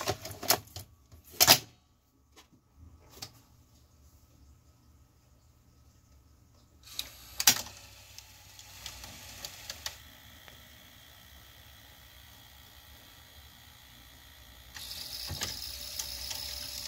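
Top-loading RCA VGT-450 VCR from 1982 loading its tape mechanism: sparse mechanical clicks and clunks, then a low motor whir building to a steadier hum, close and fairly quiet.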